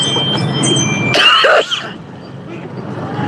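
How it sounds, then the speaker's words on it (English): A person coughs once harshly and close, a short throaty burst following steady background noise, amid a live streaming setting. "while I'm coughing up a lung"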